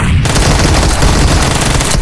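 Dense, loud burst of automatic gunfire in the video game PUBG, rapid overlapping shots filling about two seconds without pause.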